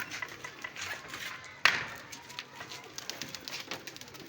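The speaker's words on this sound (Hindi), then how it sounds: "ये देखें ऊपर कबूतर ही कबूतर।" Pigeons in a flock overhead, soft cooing and flutter at a distance under steady outdoor ambience, with one sharp knock about midway.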